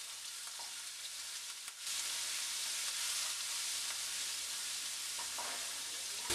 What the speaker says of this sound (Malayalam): ആ ഇഞ്ചിയുടെയും വെളുത്തുള്ളിയുടെയും പച്ചച്ചു എന്ന് മാറുന്നത് വരെ ഇതൊന്ന് മൂപ്പിച്ച് കൊടുക്കണം